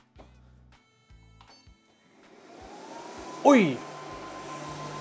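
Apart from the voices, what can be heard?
Prusa Core One 3D printer running loudly during self-test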